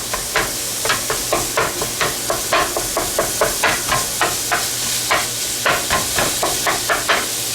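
A spatula scrapes and chops through ground beef and vegetables in a hot pan for taco filling, giving a steady run of sharp, close scraping strokes over a constant sizzle.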